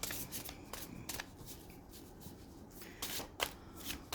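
Cards riffled and shuffled close by in a quiet room, with soft papery bursts and light rubbing between them.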